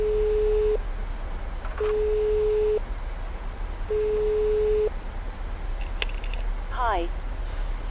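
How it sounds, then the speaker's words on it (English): A flight-simulator airliner cabin intercom call tone sounds as three long, steady electronic beeps with short gaps, followed by a few brief chirping tones. A low hum runs throughout. "I do need to call the flight attendants on the intercom."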